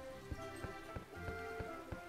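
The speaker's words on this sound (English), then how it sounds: "I think it's the rain is messing me up now." Rain falls in the platforming video game Poi, a faint steady patter punctuated by regular soft thumps, with no voices over it.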